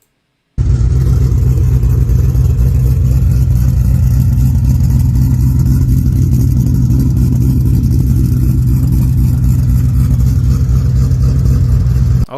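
A car fitted with 7/8 ultimate headers and a Cooks catback exhaust rumbles loudly and steadily, with a choppy idle pulse that sustains throughout without talk.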